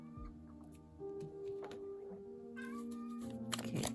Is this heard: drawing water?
no